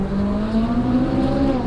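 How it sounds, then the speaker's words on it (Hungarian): Suzuki Swift Cup 1.4t race car engine roaring steadily on a track, a loud sustained drone with a slowly rising pitch and no talk. "Ez arra van beállítva, hogy egyenesen válj, és üvölt a motor"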